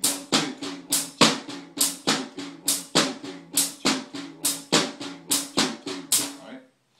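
Drum triplets are played steadily with an accent on every second note of each group, giving a fast, even pulse of crisp hits where louder strikes alternate within the rhythm and then stop cleanly.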